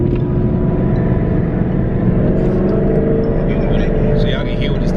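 A 1000+ hp twin turbo Ford Mustang GT running at speed, heard from inside as a loud, steady low engine roar and road drone, with a voice faintly over it near the end.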